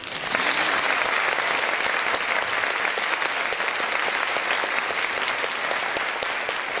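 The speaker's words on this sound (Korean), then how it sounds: "박수도 한번 하세요" A hall full of prospective civil servants at a lecture breaks into sustained, dense applause, steady and even throughout, fairly loud with no voices on top.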